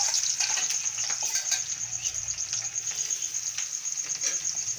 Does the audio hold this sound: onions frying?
yes